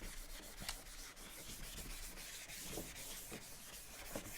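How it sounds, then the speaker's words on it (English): Rubbing out writing on a board with a steady, continuous scrubbing and rubbing, even and close, with a few sharper scuffs along the way. "let's rub all this out"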